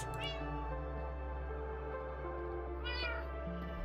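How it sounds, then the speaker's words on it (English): Two cats meow in the game Minecraft, one brief mew at the start and another near the end, heard faintly over a steady low background drone from the game. "We have both of my cats."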